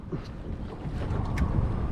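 Low rumbling engine and wind noise wash over the microphone as a large, loaded boat moves through water nearby, throwing a wake, steady and fairly loud, with no voices.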